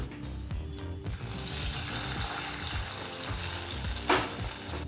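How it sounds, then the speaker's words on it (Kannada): Raisins and cashews fried in ghee poured with the hot ghee into a pot of rice and chana dal payasa, a continuous frying crackle with low bubbling and a sharp splash-like burst near the end. "ಈ ರೀತಿ ಚೆನ್ನಾಗಿ ತುಪ್ಪದಲ್ಲಿ ಹುರಿದಂಥ ದ್ರಾಕ್ಷಿ ಗೋಡಂಬಿ ತುಪ್ಪನೆಲ್ಲ ಈಗ ಪಾಯಸಕ್ಕೆ ಹಾಕೊಳ್ಳೋಣ"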